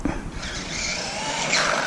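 An HBX Rampage RC monster truck brakes hard, its small motor whining and then a rising squeal as the tires scrub, heard close and loud over a short burst.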